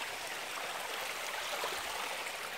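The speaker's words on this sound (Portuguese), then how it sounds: "Reservatório feito. Água já indo pela mangueira." Water rushes steadily through a hose fed from a reservoir after heavy rain, making a continuous, even hiss and gurgle that holds at a constant level without breaks.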